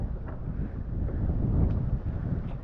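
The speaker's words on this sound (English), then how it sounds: "It's pretty cold, windy, snowy." Steady low wind rumble buffeting the microphone on a cold, snowy riverbank by the San Juan River, New Mexico, continuous and fairly loud throughout with no voices.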